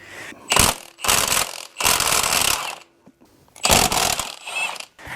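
A ratchet with a 14 mm deep socket loosens a motor mount bolt on a Honda Prelude, giving several loud clicking bursts of about a second each, separated by short pauses, close up.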